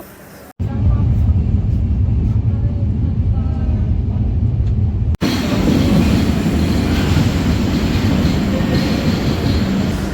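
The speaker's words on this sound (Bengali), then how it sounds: "এই ট্রেনটা এখন এখান থেকে সরাসরি পঞ্চগড়ের উদ্দেশ্যে চলে যাচ্ছে" A passenger train rumbles steadily at Thakurgaon station as it pulls away toward Panchagarh, a loud, continuous low roar of wheels and carriages heard close up.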